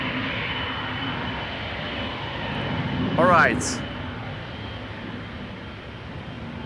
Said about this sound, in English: You might be picking up the sounds of a 777-200 that is going to follow this airplane, but to San Francisco.